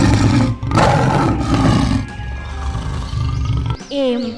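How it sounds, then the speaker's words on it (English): A lion lets out a loud, rough roar close by, with a few grunting bursts, inside a children's alphabet nursery rhyme where a voice is also heard. "L for lion."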